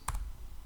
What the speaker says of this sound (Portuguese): Vou digitar a data